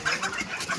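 Sonali breed chickens give short clucks and squawks as they are caught on a farm in Sultanpur, Uttar Pradesh, a brief close flurry of bird calls.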